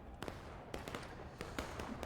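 Cannon shots boom in a multiplayer siege game match, several sharp blasts at uneven intervals, mostly mid-distance and fairly loud, over a steady wash of background battle noise.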